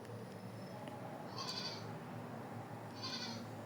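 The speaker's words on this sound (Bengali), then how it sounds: "আর আমার এই ছাগলগুলো দেখছেন" Goats on a goat farm bleat twice, faint and a little distant, over a steady low background hum with no talking.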